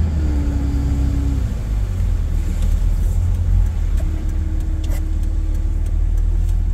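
A car drives on a road near Lake Arrowhead after a blizzard, a steady loud low engine and tyre rumble from inside the cabin with a brief whine, no talking.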